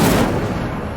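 In the PS5 game Hogwarts Legacy, an Incendio fire spell goes off as a single sharp, loud burst that quickly fades within a second.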